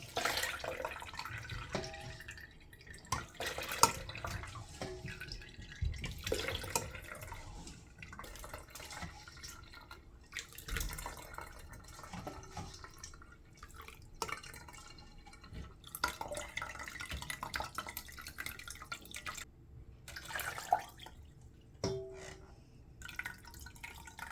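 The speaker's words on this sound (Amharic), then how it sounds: "ከዛ በኋላ ውሃ እየሞላሁ ነው ማጠለው" Quiet drips and small splashes of water come irregularly throughout, close and soft, as water is added while straining sunflower seed milk, with occasional faint clatter and no speech.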